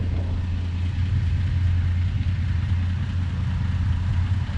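A 1966 Chevy C30 truck engine idles steadily in a shady spot, a loud, even low rumble with light clatter that holds without change throughout.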